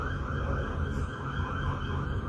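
A passing siren wails continuously over dense traffic rumble, loud and close, with steady noisy background throughout and no speech.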